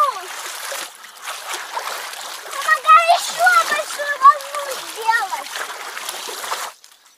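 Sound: water splashing, making waves in Intex frame pool

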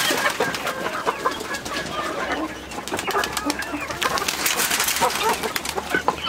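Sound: pigeons feeding near chickens

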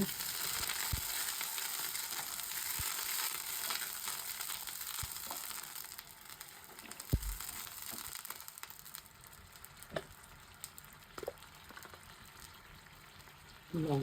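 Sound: onion frying in a pan

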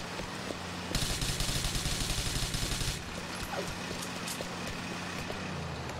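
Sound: gunshots in Grand Theft Auto IV video game

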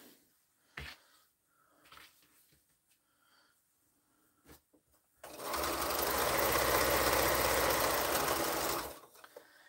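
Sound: sewing machine stitching a quilt seam

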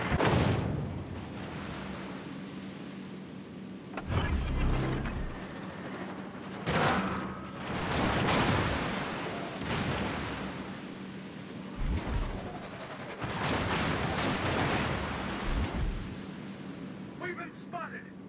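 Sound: naval gunfire at enemy warship in a video game

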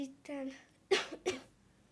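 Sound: coughing

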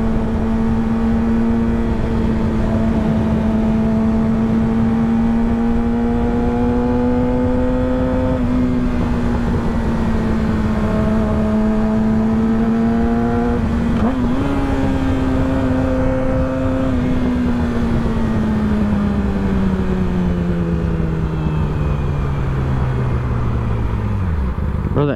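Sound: motorcycle riding with strong engine braking

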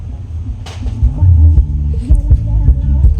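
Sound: subwoofer playing deep bass

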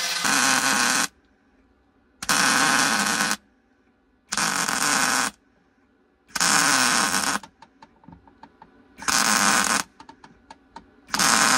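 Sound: MIG welding car floor panel with shielding gas

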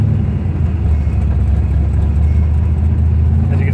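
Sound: 1971 Corvette 454 engine idling

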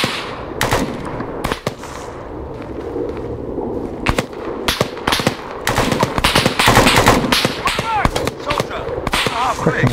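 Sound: gunfire in video game Arma 3

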